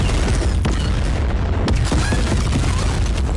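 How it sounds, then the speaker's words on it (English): Magellan's cannon fires in the video game Death Stranding 2, producing loud, heavy booms and bursts layered over a dense, continuous rumble of game sound. "There's the Magellan's cannon"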